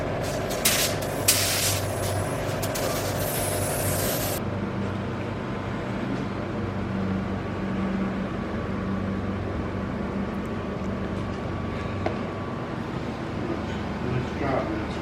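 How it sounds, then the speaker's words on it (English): A spray gun lays white paint on Mercedes SL600 parts, giving a steady close hiss that runs throughout while people talk over it. "And you get another nice even white spray, just like you do. I love this gun."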